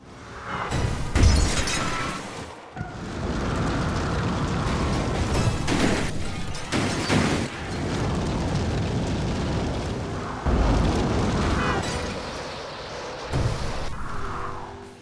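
Car crash takedowns in the racing game Dangerous Driving, heard as loud continuous engine roar punctuated by heavy crunching impacts and shattering bursts, with no voices.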